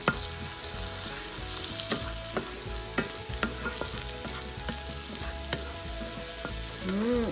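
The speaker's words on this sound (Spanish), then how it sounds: "La mantequilla ya se derritió y es el momento que le vamos a agregar la cebolla y los ajos picados y vamos a sofreír un poquito." Chopped onion and garlic sauté in melted butter for chicken in chipotle cream, a steady close sizzle broken by repeated clacks and scrapes of a spoon stirring in the pan.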